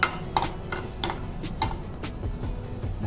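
Garlic sautéed in a pan for a village-style raw mango curry, with a spoon scraping and knocking against the metal in a steady rhythm of about two strokes a second over a soft sizzle, close up and with no talking.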